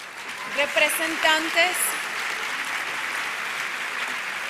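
A crowd applauds students at a 2022 graduating-class ceremony at Colegio Alemán Stille, with a voice speaking briefly at the start before the clapping settles into a sustained, even roar.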